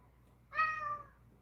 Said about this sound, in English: can you stop constantly meowing at me, please?